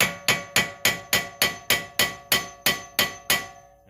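A hammer taps a car strut assembly down into place on a 2014 Cadillac during strut replacement, striking eleven sharp, evenly spaced metallic blows at close range with no talking.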